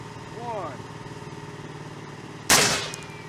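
A Gyrojet rocket pistol round fires once with a sharp, loud blast and a brief rushing tail, following a voice and a steady low engine-like hum in the background.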